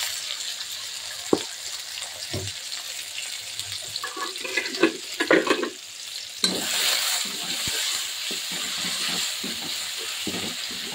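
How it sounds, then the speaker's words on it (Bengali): Onion and garlic fry in a pan on a home stove, a steady close sizzle with a few scattered clatters and knocks, then a louder hiss partway through. "এই তো পাশের চুলায় সবজি রান্না করবো বলে পেঁয়াজ ও রসুন দিয়ে দিয়েছি।"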